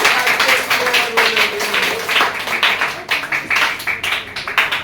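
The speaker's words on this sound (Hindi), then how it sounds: "ताली तो बजाओ इनके लिए।" Students in a classroom clapping for a classmate, a loud, close burst of uneven hand claps lasting several seconds, with a faint voice beneath.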